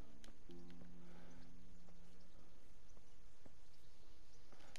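A horse in the medieval video game Kingdom Come snorts and whinnies near the start, with faint hoof clops and soft ambient game sounds over a quiet background.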